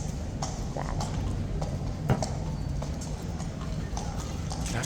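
A horse's hooves clip-clop at a steady walking pace in a yard, with a constant background hum and a few faint distant noises.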